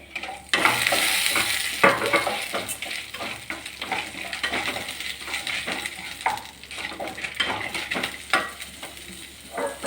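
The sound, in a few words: stirring and roasting ingredients in a pan for thuvaiyal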